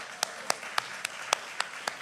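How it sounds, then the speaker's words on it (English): Applause for musicians at a church evening event, heard as sharp, evenly spaced claps, about seven over two seconds, against a quiet room background with no voices. "Round of applause."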